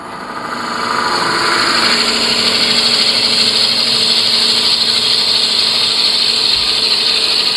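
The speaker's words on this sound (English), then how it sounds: "And I just drill pretty far down." A drill bores steadily and deep into a wooden pepper mill blank on a lathe, a loud continuous mechanical whine with a grinding, ratcheting texture that rises quickly and then holds steady.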